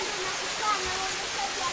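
Steady rushing water flows continuously from a mountain spring in an African village, a bright broadband wash, fairly close, with faint voices in the background.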